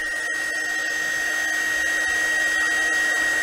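A KAIWEETS KEH01 mini heat gun blows steadily on its first mode, a constant airy whoosh with a fixed high whine running the whole time, close and even, no voices.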